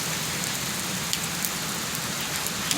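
Steady rain falling outdoors, a continuous dense hiss of drops hitting surfaces with a few slightly louder drips standing out, no voices heard.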